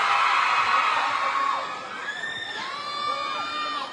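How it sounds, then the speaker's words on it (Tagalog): A large crowd at an SM Caloocan mall fan event cheers, whoops and shouts continuously, with shrill individual yells rising above the roar and slowly easing off. "Hindi siya lalabas hanggang sa malakas ang sigaw nyo."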